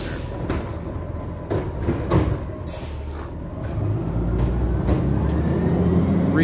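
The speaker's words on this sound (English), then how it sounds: "Recycled truck." A recycling truck rolls past on a residential street, its low rumble swelling steadily louder toward the end under faint clanks and thumps.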